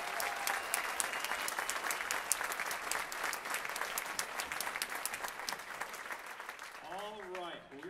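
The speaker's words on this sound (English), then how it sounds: "Give these kids a hand." An audience in a school setting claps for a high school band in a sustained round of dense, even applause, with a voice speaking briefly near the end.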